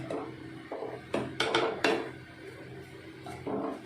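A pressure cooker holding cooked manathakkali spinach is opened after its pressure drops, giving a string of sharp metallic clanks and knocks from the lid and pot at an uneven pace, close by, with no talking.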